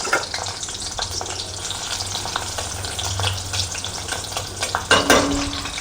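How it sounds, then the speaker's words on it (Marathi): Garlic frying in hot oil in a pan, a loud close crackling sizzle with repeated spatula stirs and a sharper clatter near the end, no one speaking. "तेल गरम झालं आहे आता लसूण टाकूया"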